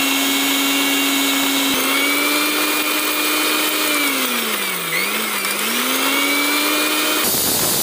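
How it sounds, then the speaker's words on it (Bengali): A mixer grinder runs loud and close, blending peas with cumin and water in a continuous high whine whose pitch sags and recovers as the load shifts, stopping sharply near the end. "মিক্সচার মেশিনে বসিয়ে দেবো।"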